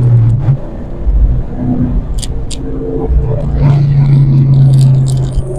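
Engine of a procharged 2004 Ford Mustang Mach 1 idling and lightly revving with a steady low rumble and some whir, close and loud, with a person talking over it.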